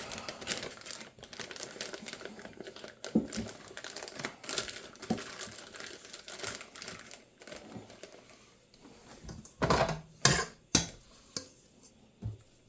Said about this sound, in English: open up a Ziploc bag